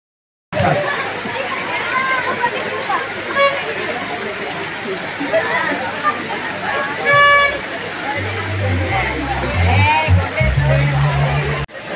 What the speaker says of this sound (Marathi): इकडे कारंजा सुरू आहे.